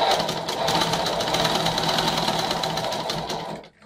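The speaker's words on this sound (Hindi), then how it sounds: "और इसके ऊपर से सिलाई फेर देंगे" Sewing machine running continuously while stitching a seam on a Patiala salwar, a fast, even mechanical whir and rattle heard up close, slowing and stopping at the very end with no talking.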